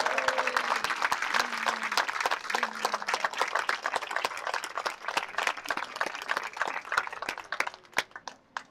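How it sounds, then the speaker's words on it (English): Crowd at a middle school football game applauds 8th graders and their families, fairly close clapping that thins into scattered sharp individual claps toward the end, with a few brief voices underneath. "Let's have a round of applause for our WMS 8th graders and their families."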